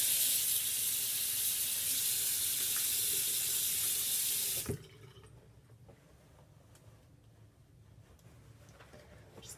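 Bathroom sink tap runs in a steady loud hiss while water splashes as a face is rinsed, then cuts off abruptly about halfway, leaving faint drips and quiet room tone.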